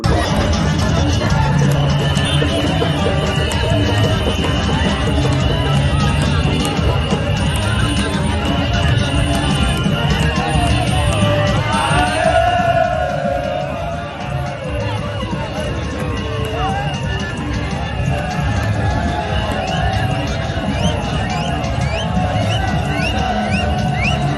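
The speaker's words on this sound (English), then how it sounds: "So una see the kind crowd where people then get the jubilation." A jubilant crowd at an SLPP political rally in Koinadugu fills the air with dense, loud, continuous hubbub, with many voices shouting and talking at once throughout.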